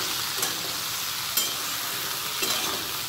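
Chopped ridge gourd, potato and thankuni leaves fry in a pan with a steady broadband sizzle, broken by three short scraping stirs of a spatula, close and moderately loud with no talking.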